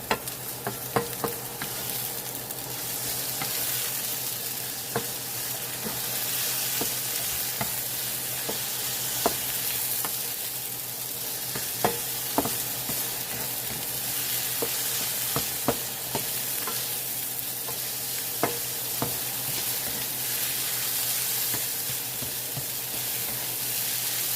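Eggs frying and being stirred in a pan, cooked until nice and brown, with a steady sizzle under repeated scraping and stirring strokes, close and continuous with no talking.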